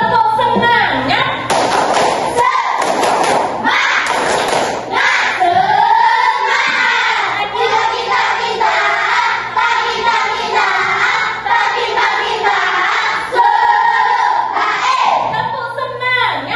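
A class of pupils stands and does rhythmic chant-and-clap routines, thumping claps in patterned bursts mixed with loud children's voices chanting and shouting along, busy and close throughout.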